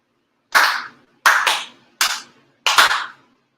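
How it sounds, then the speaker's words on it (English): Four sincere ritual claps at a monthly ceremony, sharp, evenly spaced and loud against silence, with the second and fourth each showing a slight doubled strike. "4 sincere claps."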